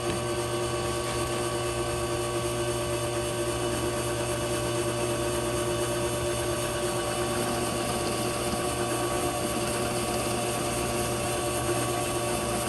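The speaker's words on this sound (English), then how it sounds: "So now I'm going to drill these corners out" Forstner bit drilling out the corners of a beetle kill pine guitar body, a steady, continuous machine whir with a bright grinding edge held at even loudness throughout, no voices.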